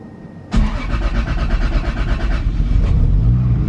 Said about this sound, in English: we are going to start the car